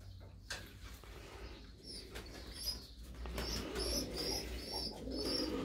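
Breeding pigeons of Urfa lineage coo softly while feeding their young, with a few wing flaps and light chirps in a quiet coop.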